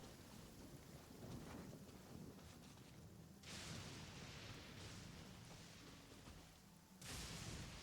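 Steady rain hissing with a low rumble of thunder in the video game Genshin Impact, broken by sudden surges of heavier downpour.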